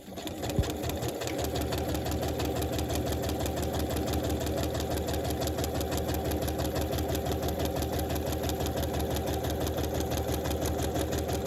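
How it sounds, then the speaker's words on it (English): A sewing machine stitching a paper-pieced quilt block, a steady rapid mechanical whirring and clatter running continuously and close, after a brief knock at the start. "I'm sewing right along this line right here."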